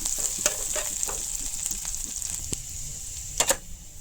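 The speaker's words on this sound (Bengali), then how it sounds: "পেঁয়াজ রসুন আগের কাটা আছে ছোট করে একটু দিলাম। একটু লাল লাল করে এটা বাজিম।" Finely chopped onion and garlic fry in a pan, a constant bright sizzle up close with occasional scrapes of stirring and a couple of sharper clinks near the end, no talking.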